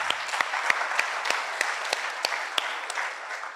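Sustained applause from an audience at a high school girls' debate competition, a dense wash of many hands clapping with a few sharper claps standing out, steady throughout.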